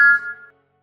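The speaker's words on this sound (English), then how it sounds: "if you need some advice from a wise tram engine, just ring the bell like this" A cartoon tram engine's bell rings once, a bright clear metallic tone that decays over about half a second into silence.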